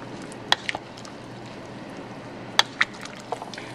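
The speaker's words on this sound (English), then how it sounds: "So now I will stir all this up together" Harvest soup made with vegetable stock being stirred in a pot: a few sharp spoon clinks against the side over a soft, steady liquid swish, quiet and close, with no talking.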